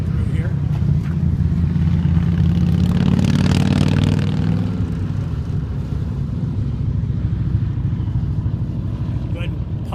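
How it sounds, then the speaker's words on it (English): Motorcycles roar past at a dormant volcano site, a broad, loud engine rumble swelling around the middle and then easing off into a steady drone, with a voice talking over it. "a lot of motorcycles going through here"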